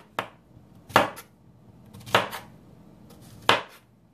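Four sharp, separate knife chops through a big squash on a cutting board, evenly spaced about a second apart, close and crisp against a quiet room.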